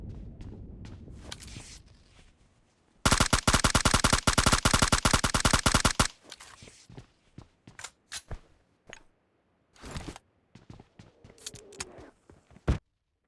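Rapid automatic gunfire in PUBG Mobile Lite as an enemy behind a tree is killed: a dense three-second burst of shots, then scattered single cracks, footsteps and thuds, fairly close with no speech.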